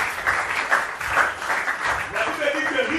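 A church congregation bursts into sustained applause and clapping during a French-language sermon, a dense, steady wash of many hands that continues throughout, with voices faintly mixed in.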